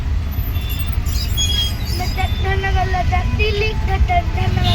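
Dense traffic on the Mumbai–Pune route heard from an auto-rickshaw: continuous engine and road rumble from cars, buses and trucks, with scattered horn-like tones and a brief hiss, close and steady throughout.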